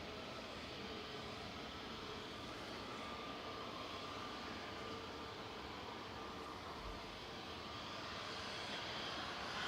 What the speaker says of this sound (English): Where are you off to? Antalya. Flight 5816 TCNBR, Airbus A320.